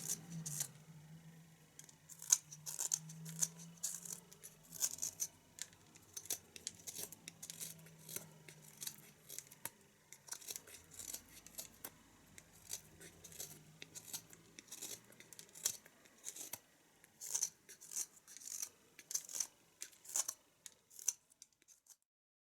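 Small knife cuts carve the top edges of a wooden swallow tail, giving quiet, close, irregular snicks and scrapes in quick bursts with short pauses between strokes.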